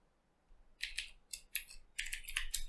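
Code typed on a computer keyboard, close-up: quick clicky keystrokes in short irregular bursts separated by brief pauses, with no voice.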